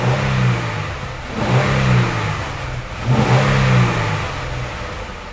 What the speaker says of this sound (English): I'm going to rev up the engine.